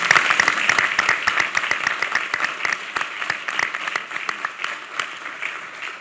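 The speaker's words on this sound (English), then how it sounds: "Let's give them a big round of applause" A seated audience at a state wine, beer, spirits and cider summit hosted by the governor applauds two legislators, steady close clapping lasting several seconds and slowly thinning toward the end.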